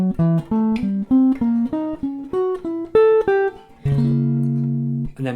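Guitar playing a diminished scale cell slowly: a steady sequence of distinct plucked notes climbing in pitch, each ringing briefly, ending on a longer sustained chord, clear and close with no talking.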